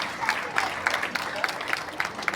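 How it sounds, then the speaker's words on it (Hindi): A small crowd at a gathering claps in rhythmic unison, with sharp, evenly spaced hand claps, moderately close, carried over a rough background murmur. "ऐसे किरण देव जी को भी ताली बजा करके स्वागत है"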